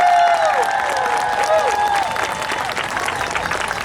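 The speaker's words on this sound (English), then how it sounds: "can we give a big round of applause to the Salvation Army Band for getting us in the Christmas spirit?" Audience applause at an outdoor Christmas tree lighting for a Salvation Army band, a dense wash of clapping with cheers, while a loud train horn sounds over it.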